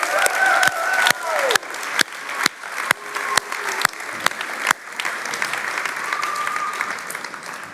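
Congregation in a church applauding children after a song, uneven clapping with sharp individual claps and crowd murmur, a voice speaking over it near the start.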